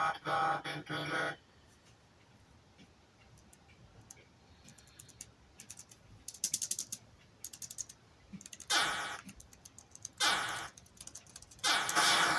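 Computer keyboard keys click in scattered bursts and single taps while someone tries to find the fire control for a game on an Atari VCS, and a voice breaks in between the presses.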